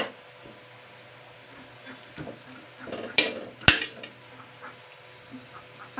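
A boti blade slicing through bitter gourd gives a few sharp, brief cutting snaps close by, with faint soft clicks and scraping in between over a quiet background hum.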